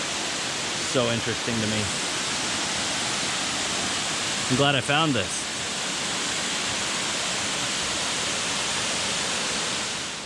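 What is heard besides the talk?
waterfall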